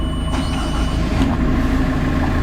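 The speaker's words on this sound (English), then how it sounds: "and the engine is on." Port-side engine on a Seawind 1600 catamaran running at idle, a steady close low rumble with even mechanical throb and no talk over it.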